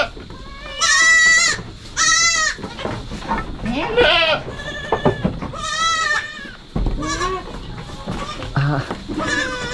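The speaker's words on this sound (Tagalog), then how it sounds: "Wow na wow yung mga kambing natin." Several small goats in a backyard bleat loudly and repeatedly in quavering calls, some overlapping, with people talking in between.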